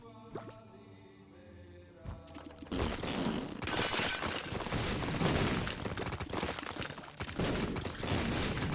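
Explosions in The Binding of Isaac: Repentance: after a stretch of tonal game music, loud rapid-fire blasts erupt and keep rattling in dense, overlapping bursts to the end, with the music still running beneath.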